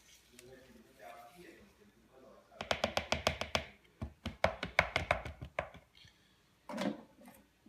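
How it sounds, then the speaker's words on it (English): Egg and cinnamon mixture being whisked in a bowl for protein French toast, a quick run of sharp clinking taps from the utensil against the bowl, with a voice talking before and after. "She's going to whisk it one more time."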